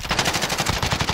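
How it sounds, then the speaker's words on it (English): Rapid automatic gunfire in the video game Call of Duty Warzone, a steady stream of close, loud shots fired in quick rhythm with no break. "Now people are shooting him."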